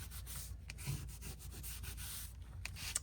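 Magazine paper on a collage board gets rubbed down by hand in quick, close, faint scratchy strokes repeated in a brisk, uneven rhythm.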